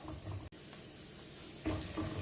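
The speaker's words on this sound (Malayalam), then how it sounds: "ഇതിലേക്ക് നമുക്ക് ചെറുതായി അരിഞ്ഞ തേങ്ങാക്കൊത്തും കൂടെ വറുത്തെടുക്കാം" Chopped coconut pieces fry in a pan for sweet pumpkin payasam, giving a steady, close sizzle that cuts out for an instant and then swells louder near the end.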